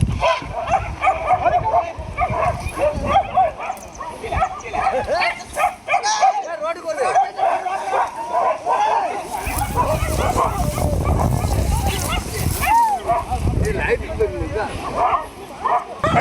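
Several dogs, pet and street dogs, bark and yip together while driving off a wild elephant in Idukki, the barking repeated and energetic over a loud, busy outdoor background, with people talking through much of it.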